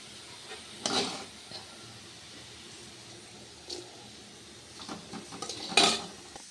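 Sautéed food being scooped from a pan into another vessel, a few sharp metallic clinks and scrapes of utensil on cookware spaced over several seconds against a quiet kitchen background.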